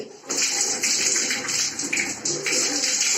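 Hot water from a tap runs steadily during hair washing, a continuous near splashing hiss with small shifts as the stream hits hair and hands, no talk over it.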